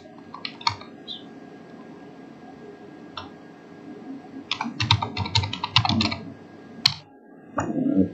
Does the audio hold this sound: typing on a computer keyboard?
yes